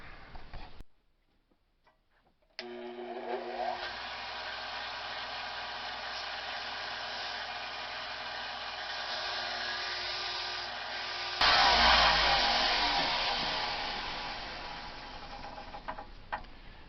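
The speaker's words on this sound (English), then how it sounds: "But I'm going to do that work on the belt sander," A belt sander grinds the profile of an English trade knife blade, a steady loud whining drone running from start to finish after a brief pause, with its pitch and intensity rising sharply near the end as pressure increases.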